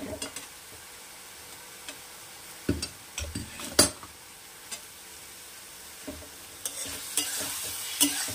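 A metal spatula stirs and mashes brinjal with egg in a frying pan. Sizzling and frying run quietly throughout, with scrapes and clinks against the pan that come in irregular bursts, close up.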